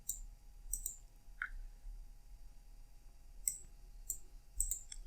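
Quiet, close computer mouse clicks made while modeling in Blender, about ten light clicks in small irregular clusters over a low steady hum, with no talking.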